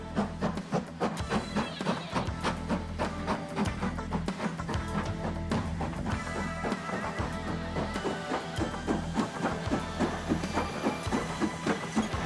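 Heritage Bluebell Railway train at Horsted Keynes station, a steady rhythmic chugging and clatter with a low rumbling drone, moderately near and fairly faint, with no talking.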